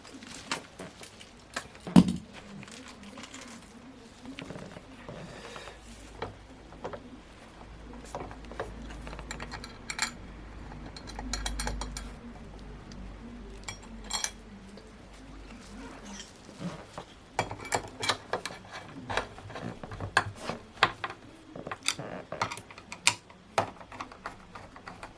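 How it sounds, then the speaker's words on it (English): Screws turned by hand into a wall mount for a Samsung 65-inch Q950R QLED 8K TV, giving scattered small clicks, taps and scrapes over a low hum, with busier bursts of handling near the end. "so I'll just screw these in first"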